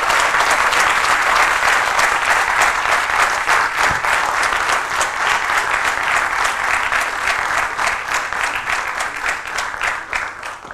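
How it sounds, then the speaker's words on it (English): Sustained audience applause following a keynote lecture at a pediatric urology conference, a dense, loud wash of many hands clapping steadily for about ten seconds, slowly thinning toward the end with no talk over it. "The applause tells it all."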